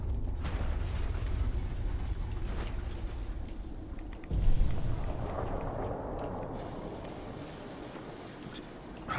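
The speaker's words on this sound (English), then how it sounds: "Is that some kind of Hoover machine?" Grinding, ratcheting machinery in Fallout 4 that resembles a Hoover, a steady mechanical churn with creaks and a heavier rumbling surge partway through, no voices.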